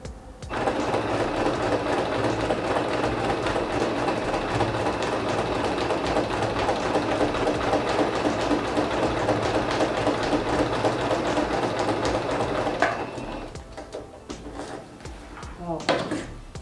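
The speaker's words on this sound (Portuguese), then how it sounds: "Aí aqui eu passo uma costura embaixo e uma costura em cima" A sewing machine stitches a handmade album in one steady, continuous whir that runs for about thirteen seconds and then stops, followed by a few quieter handling sounds.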